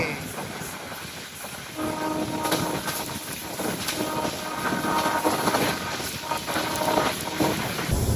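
A Janshatabdi Express train rolls across the Kalinga river bridge, a continuous loud rumble with rhythmic wheel clatter heard from inside the carriage, steady and without talk.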